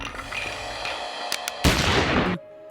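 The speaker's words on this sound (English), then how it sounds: "when Abe gives up his life, you hear a gunshot, like John Wilkes Booth's assassination" A single sharp gunshot rings out as a sound effect in the Adventure Time cartoon, a loud crack followed by a brief noisy burst that cuts off abruptly, over faint background music.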